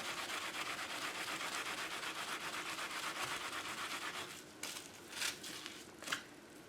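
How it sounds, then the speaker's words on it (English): Hands rub wet felt in a continuous, close scratchy swishing that holds steady, then breaks into a few separate louder rubbing strokes near the end. "rub with your hands or use a palm washboard"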